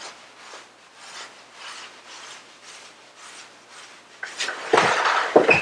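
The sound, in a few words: hands rubbing skin during self-massage of arm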